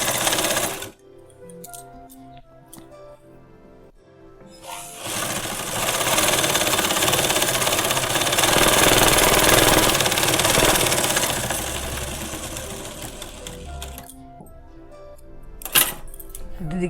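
Sewing machine double-stitching a sharara pant, running in a steady whirring rattle for about eight seconds after a few short starts, then slowing, with a sharp clack near the end and a person talking in quieter moments.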